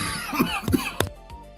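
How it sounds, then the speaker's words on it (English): A person coughs several times in quick succession, close and fairly loud, with a throaty rasp between the bursts. "Sorry, I was a little slow to the mute button there. Didn't mean to cough on camera."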